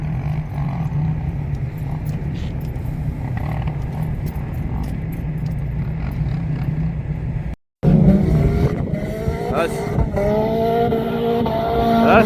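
Quad bikes ride on a frozen lake, engines revving and rising and falling in pitch, with a brief cutout midway before louder, closer revving resumes; no talk is heard.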